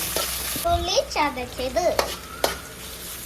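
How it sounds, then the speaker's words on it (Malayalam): Curry leaves, ginger-garlic paste and onion sizzle in a pan while a spoon stirs and scrapes, with a voice talking over the frying and sharp clinks of the utensil against the pan. "ഇഞ്ചി വെളുത്തുള്ളി പേസ്റ്റ് സവോള എല്ലാം കൂടെ ഇട്ടിട്ട് നന്നായിട്ട് ഇളക്കി"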